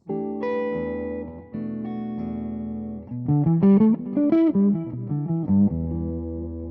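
Electric guitar played through the EF86 channel of a Shaw Audio Fulltilt 30 amp with the contour switch at full, tone heavy in low end: sustained chords, then a quick run of bright single notes, loud and close with no voices.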